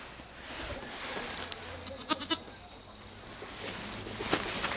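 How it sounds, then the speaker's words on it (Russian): A goat stuck somewhere bleats a few times close by, with short strained cries over rustling and scuffling noise outdoors. "Сейчас тут коза застряла у меня, Алиса."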